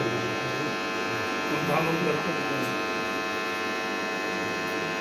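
A steady electric fan hum drones throughout with a faint buzzing edge, constant and unchanging, with a voice faintly audible at moments.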